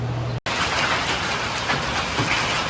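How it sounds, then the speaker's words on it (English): Hail patters densely and steadily on a calf barn roof, a loud continuous rattle after a brief cutout at the start. "it's hailing"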